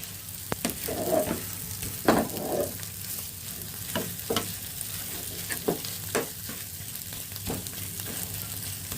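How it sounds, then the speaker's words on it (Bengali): Mashed soybean with a little turmeric, onion, garlic and chilli being stir-fried in a pan: a low, steady sizzle broken by repeated sharp scrapes and clacks of a spatula, close up, with no voices. "এবার এটা শুধু এখানে একটু ভাজা ভাজা করতে হবে।"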